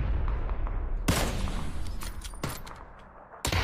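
Gunfire in the battle-royale shooter PUBG: a loud burst of shots breaks in about a second in, then scattered sharp reports crackle over a busy game-noise bed, and a final burst comes near the end.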